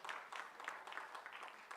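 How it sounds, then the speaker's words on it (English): A conference audience claps for the organizers, a steady patter of many hands that sounds fairly distant and soft, with no distinct voices. "I request all of you to clap for the organizers who have done a very fantastic job"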